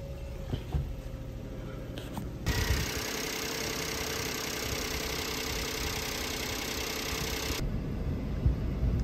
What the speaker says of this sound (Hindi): तो जी अल्हम्दुलिल्लाह फाइनली गाड़ी जो है वो स्टार्ट हो चुकी है